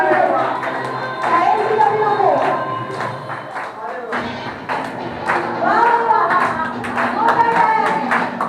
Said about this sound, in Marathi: टाळ्या वाजवा भरपूर.